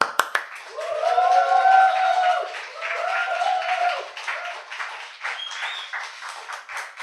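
A church congregation cheers and claps to welcome a guest pastor. A rising shout of voices swells early, then fades into scattered, crisp hand claps that thin out toward the end.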